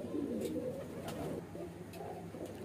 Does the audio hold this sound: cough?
no